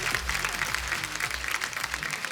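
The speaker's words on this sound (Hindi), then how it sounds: "फरहाद भाई के लिए जोरदार तालियां" Studio audience applause welcoming film director Farhad onto the stage of a Hindi comedy talk show, a steady wash of clapping that holds throughout at moderate volume with no talk over it.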